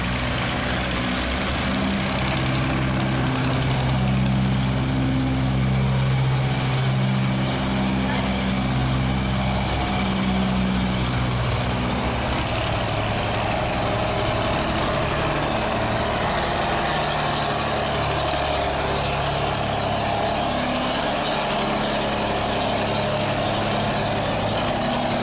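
Iron boats with idling, chugging engines moving into a canal lock gate, a steady loud engine drone lasting the whole stretch, with a voice talking over it.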